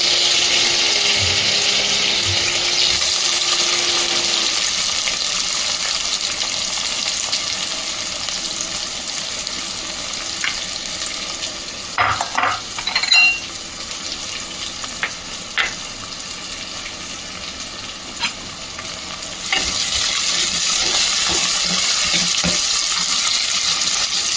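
Curry leaves and onions fry in hot oil in a pan for mutton bone soup, a steady close sizzle with occasional stirring clinks and scrapes, no talk.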